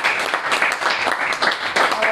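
Audience applause at a startup pitch event held in a coworking space, a dense, steady patter of many hands clapping that continues through the whole stretch with a brief swell near the end.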